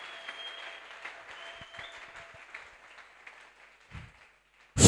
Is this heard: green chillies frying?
no